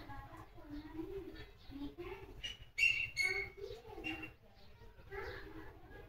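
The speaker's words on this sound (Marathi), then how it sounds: "पक्षी आहे ना?" Soft cooing and a few chirps from a bird nearby, repeating in short phrases over a quiet background, with brief voices in between.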